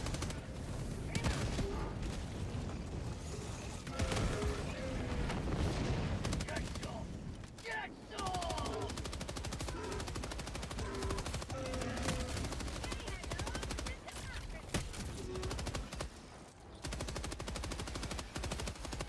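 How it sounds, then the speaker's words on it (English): Rapid autocannon fire in the video game Helldivers 2 launching airburst flak rounds: dense sustained bursts of heavy repeating shots with brief gaps, loud and continuous, and a voice talking underneath at times. "I'm guessing the autocannon is now a budget airburst"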